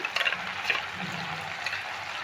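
Whisked sour yogurt poured into a pan of spices for a Kashmiri-style potato dish, a steady wet sizzle and splatter with soft liquid sloshing, close and moderately loud, no speech.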